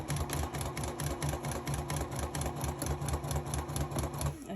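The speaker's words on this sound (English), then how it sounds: "I'm gonna sew along that entire opening" A sewing machine runs steadily, stitching close to the edge to close an opening in fabric, with a fast, even mechanical rhythm of needle strokes, close and continuous throughout with no talk.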